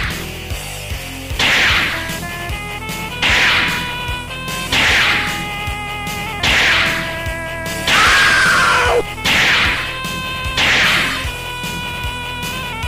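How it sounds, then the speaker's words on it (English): Rocket launcher firing in the Metal Slug video game, a string of about seven sharp whooshing blasts at roughly regular intervals over a looping electronic music track, loud and punchy. "Rocket launcher."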